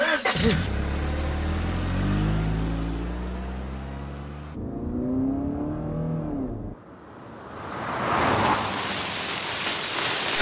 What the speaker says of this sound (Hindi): पहले गाड़ी तो स्टार्ट करो।